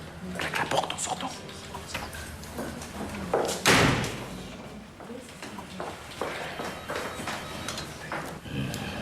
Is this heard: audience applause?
no